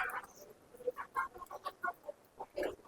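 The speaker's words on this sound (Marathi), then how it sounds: "हे बघा एवढा मोठा कोंबडा आहे." Chickens and a big rooster cluck in a farmyard with short, scattered calls close by, some louder bursts among quieter clucks.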